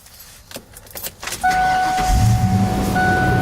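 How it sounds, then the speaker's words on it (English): A truck's power rear window motor whines steadily as the glass goes up, after a few light clicks and jangles, with the idling engine rumbling low underneath. "I'll show you the rear window go up."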